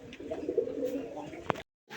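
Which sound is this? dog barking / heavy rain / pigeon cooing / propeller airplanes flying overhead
pigeon cooing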